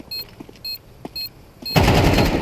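Bursts of automatic gunfire from Counter-Strike, short spaced rattles followed by a loud dense volley at the end, close and sharp.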